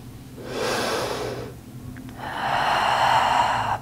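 Deep, slow breaths during a yoga pose, a long audible inhale followed by a fuller exhale, close and fairly soft with no talking.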